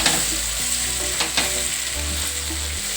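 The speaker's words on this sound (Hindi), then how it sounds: "टमाटर डाल के अच्छे से इनको भी फ्राई कर लेंगे।" Tomatoes added to golden-browned onions sizzle and fry in a pan, a steady close hiss with occasional clinks of stirring throughout.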